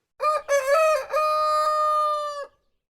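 A loud, clear rooster crow, a voice mimicking cock-a-doodle-doo with a few short rising notes and then a long held cry.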